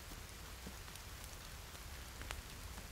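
Rain in the survival video game The Forest falls as a steady, close hiss of drops, with a few sharper patters standing out now and then.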